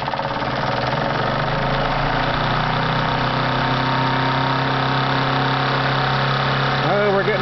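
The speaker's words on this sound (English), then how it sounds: "Let's open the motor up wide." An engine opened up to full throttle driving a PM Research dynamo, a loud, steady droning hum with layered tones and vibration that holds constant throughout, ending with a brief pitch wobble.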